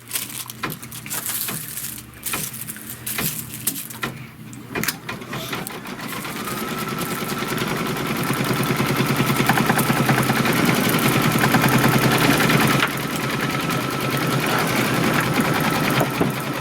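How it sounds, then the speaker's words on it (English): An embroidery machine stitches a placement line for a Kimberbell design, first with a few uneven clicks and thumps, then a steady, fast mechanical whirring hum that runs on close and loud. "first we need to stitch the placement line"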